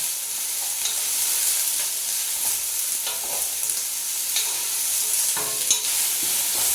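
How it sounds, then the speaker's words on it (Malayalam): Thinly sliced onions and green chilies sauté in a pan for kuska rice, a continuous soft sizzle broken by scraping spatula strokes and occasional clinks. "വലിയ 2 സവാള കനം കുറച്ച് നീളത്തിൽ അരിഞ്ഞു കൊടുക്കാം. 2 പച്ചമുളക് അരിഞ്ഞിട്ട് വഴറ്റി കൊടുക്കാം"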